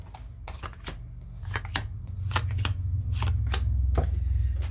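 A deck of tarot cards being cut and shuffled up close, with a run of crisp riffling snaps and flicks over a low steady hum.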